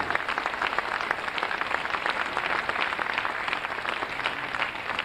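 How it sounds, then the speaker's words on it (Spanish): Dense, steady applause from an audience fills the hall for performer Eleonora at the Argentina Sefarad 92 convention in Buenos Aires, loud and continuous with no pause. "Ese aplauso es para ti."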